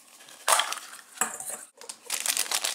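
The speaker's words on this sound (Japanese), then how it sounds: "ではドリキランスから開けていきます。" A plastic gashapon capsule containing a tiny Dino Drill Lance toy being cracked open: sharp plastic snaps and crinkling rustles in a few close bursts, with a short pause before more rattling of the parts.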